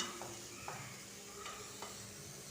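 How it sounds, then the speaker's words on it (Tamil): Vegetables sautéing in oil over a medium flame with steady broadband sizzling, broken by a few short scraping strokes as they are stirred in the pan. "காய்கறிகளை ஒரு ரெண்டு டு மூணு நிமிஷம் மீடியம் ஃப்ளேமில் இந்த எண்ணெயிலே நல்லா வதக்கி எடுத்துக்கலாம்"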